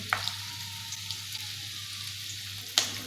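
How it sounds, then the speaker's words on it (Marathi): Vertically sliced onions dropped into two spoons of hot oil in a kadhai, giving a steady close sizzle and crackle with a couple of brief clicks, no talking. "कढईमध्ये आत्ता बरोबर दोन चमचे तेल ओतत आहे झालं की ते मी दोन उभ्या आकारात कट केलेले कांदा टाकत आहे"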